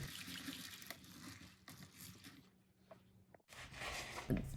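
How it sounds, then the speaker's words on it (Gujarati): Two cups of sabudana (tapioca pearls) washed in water in a home kitchen, close sloshing and swirling of water with bursts of splashing, alone without talk. "તો હું એને હવે સારી રીતે પાણીથી વોશ કરી લઈશ, જેથી એનો એક્સ્ટ્રા સ્ટાર્ચ હોય એ નીકળી જશે."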